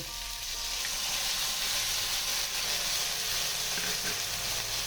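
Ridge gourd frying in a pan with poppy seed paste ground with green chilli, a constant dense sizzle that holds steady and close throughout, with no one speaking.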